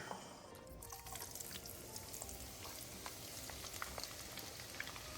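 Garlic frying in hot oil for chili crisp, a steady dense sizzle with scattered crackles and pops, close and continuous throughout with no talking.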